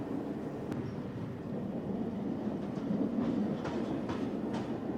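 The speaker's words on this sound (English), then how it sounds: "The train arrives." A train arrives in a short film, a low rumbling roll with faint rail clatter and a few sharp metallic ticks, steady and moderately distant with no voices.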